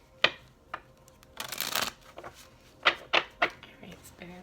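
Cards are shuffled in a quick riffle, a dense burst of fluttering flicks followed by a few taps and soft knocks nearby.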